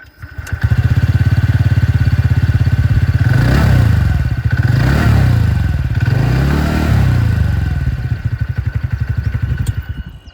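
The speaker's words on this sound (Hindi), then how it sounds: "अब यहाँ पर मैं आप लोग को जो एग्जॉस्ट साउंड है दोनों स्कूटर की सुना दूँ।" A 2026 TVS Ntorq 125 Race XP scooter engine idles loudly with a steady exhaust rumble, revving up a few times.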